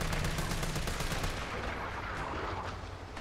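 Assault rifle fire in Resident Evil 3 Remake, a dense rattling burst of rapid shots that stays fairly quiet and continuous, with no voices.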